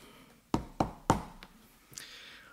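Three sharp knocks on a door in quick succession, fairly close and loud, followed by a fainter fourth tap and a brief squeaky rustle at the end.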